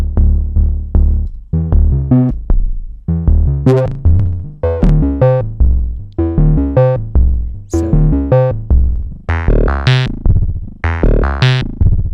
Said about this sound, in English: It's sort of like it's a synth, it's a percussive thing.